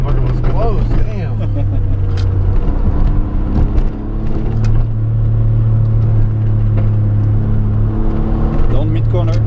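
A 1992 Suzuki Cappuccino descends a winding mountain road on Mt. Rokko, its small engine humming and revving steadily throughout, with tyre and road rumble and occasional clicks close inside the cabin.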